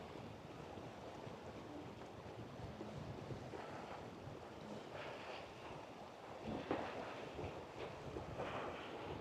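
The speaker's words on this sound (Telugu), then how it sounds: "ఈ విండు అలల తాకిడి చూస్తారు కదా ఎట్లా వస్తుంది ఏంది అనేది" Wind-driven waves lapping at the Lower Manair Dam reservoir in Karimnagar, a faint steady wash of water with soft gusts and a few small splashes.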